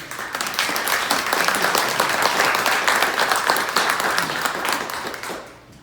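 An audience at a live conversation event applauds steadily for nearly six seconds, a dense wash of many hands clapping that swells and then fades out at the end.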